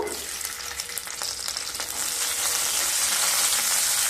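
Cashews and peanuts fry in white oil and ghee in a pan, with a loud, close, steady sizzle that swells and brightens toward the end while occasional stirring scrapes break through.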